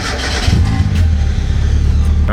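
Mazda Miata engine cranking and catching after an alternator replacement, settling into a loud, close, low rumbling idle with no talking.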